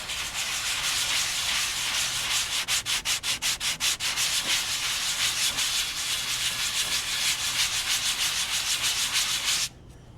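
Sandpaper rubbing over cured gelcoat, a continuous hissing scrape with rhythmic back-and-forth strokes partway through, close and steady, stopping abruptly near the end.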